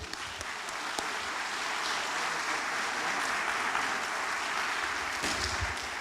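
A church congregation applauds during a sermon, sustained, even, roomy clapping that fills the whole stretch at steady volume with no voices over it.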